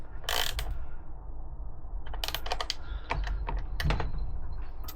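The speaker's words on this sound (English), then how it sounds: "we're just going to bolt the indicators on to the fairings" Indicators being bolted onto Triumph motorcycle fairings, with several close bursts of ratcheting clicks and metallic tool rattles separated by short pauses, over a steady background hum.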